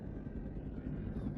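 Aircraft engine in a video game, a continuous low droning hum with a rumbling, rotor-like texture, steady and moderately loud throughout the short stretch.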